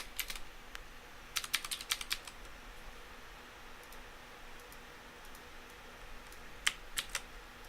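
Fingers type on a computer keyboard in short clustered bursts of clicking keystrokes, with quiet pauses between them, close up over a faint room hum.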